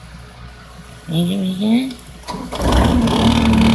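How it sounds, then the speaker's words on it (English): A New Holland skid-steer loader, a Bobcat, cranks and its engine catches, rising into a loud, steady rumble near the end after an excited voice cheers over a quieter stretch. "I have started the Bobcat, but I will not drive it."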